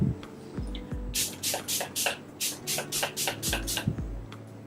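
A makeup setting spray bottle mists in a quick series of about nine short, hissing pumps, close up, with some soft handling thumps around them.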